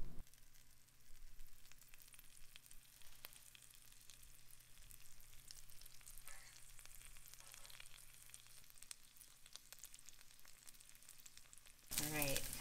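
Food frying in butter in a frying pan gives a faint, steady sizzle throughout, ending in a brief louder burst of crackling.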